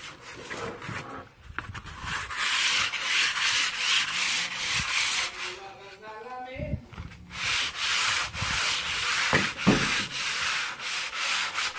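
An electric planer or sander works wood for a hanging cabinet, with a loud, rough, continuous grinding rasp and short breaks and shifts as the tool moves across the board.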